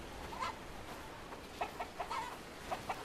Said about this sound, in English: Well, chickens are chickening, I guess.